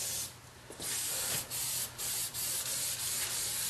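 Aerosol spray can hissing out a coating onto homemade wooden loading blocks in short, close bursts separated by brief pauses, with no voices.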